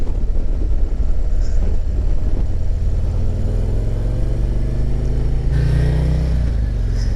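Several 2022 ST bagger motorcycles race around a track in a dense, steady engine roar that holds throughout, with a louder, rising rev as a bike passes close near the end.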